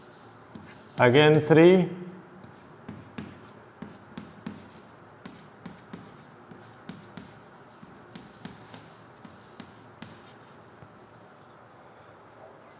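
Chalk or marker strokes on a classroom board while a chemical formula is written, a steady run of short taps and scrapes spaced about half a second apart, with a brief spoken phrase near the start.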